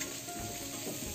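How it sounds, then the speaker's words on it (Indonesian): Ground garlic and roasted candlenut sauté in a hot pan with steady, close sizzling and frying crackle, a constant hiss with no pauses. "saya tumis bawang putih dan kemiri tadi"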